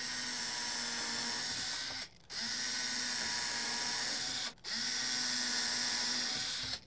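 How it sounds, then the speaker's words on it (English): A power drill bores hinge holes in wood for a storage cabinet door, whining steadily at high speed in three long runs separated by two brief pauses, close and loud with no talking. "it'll hold the hinge in place so I can drill the holes"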